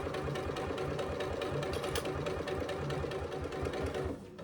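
A sewing machine runs steadily through the bottom curve of a hobo bag, a close, continuous motor hum with a rapid rhythmic needle clatter that slows and drops off at the very end.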